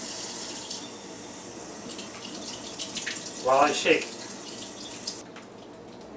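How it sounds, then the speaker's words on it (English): Cold water runs from a kitchen sink tap in a steady, soft hiss, briefly splashing louder midway, with a person speaking over it. "I'm just going to run cold water over this"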